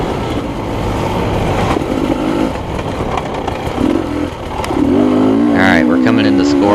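Small motorcycles race on a dirt track at a LaCygne, Kansas event, engines revving and rising in pitch as bikes pass close, with a loud surge near the end and a voice talking over the noise.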